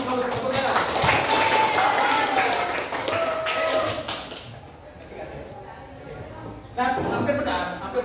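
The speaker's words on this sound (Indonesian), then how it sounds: "Tapi bagus tepuknya lah." Audience of students clapping at a school digital-literacy session in a hall, a burst of applause that fades mid-clip and then resumes, with voices mixed in.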